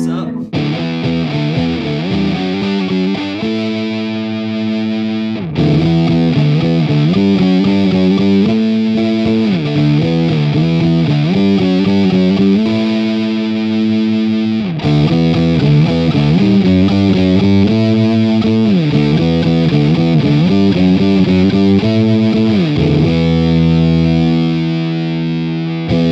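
Electric guitar played through a Pepers Pedals Russian Doom Machine fuzz distortion pedal, thick saturated chords and sustained notes ringing loud and close, with brief pauses between phrases over about 26 seconds.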